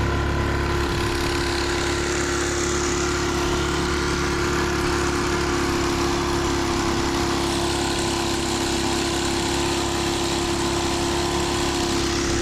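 Loud boat engine with a new muffler droning steadily on a Cape Fear River trip, a continuous close, unbroken roar with no talk over it.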